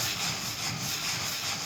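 A rock rubbed in circular motions over wallaby skin, scouring off the soft fluffy layer; a steady, close, continuous gritty rasping hiss with no pauses and no talking.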